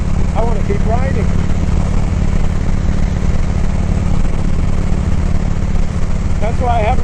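Harley-Davidson Road King motorcycle engine rumbling steadily while riding, a loud continuous low drone with wind noise, someone speaking briefly over it at the start and end.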